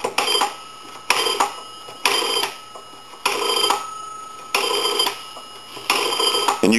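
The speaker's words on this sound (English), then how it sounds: "And you can hear the bell tinkle as we're dialing." Old A&E three-slot payphone under repair being dialed, short bursts of clicking with a faint bell tinkle repeating about every second, each burst decaying quickly, close and without voices.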